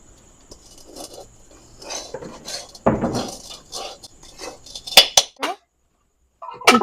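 Plates and metal dishes clink and scrape as tal pitha made with semolina is set out for serving, a series of close, sharp knocks and rattles with brief pauses and a couple of bright clinks near the end.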